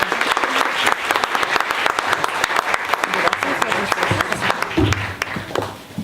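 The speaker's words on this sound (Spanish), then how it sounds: "Para Fernanda Tapia, un aplauso." An audience at a science talk event applauds a speaker being honoured, a dense, steady wash of clapping that fills the whole stretch at close range, with a few louder claps standing out near the end.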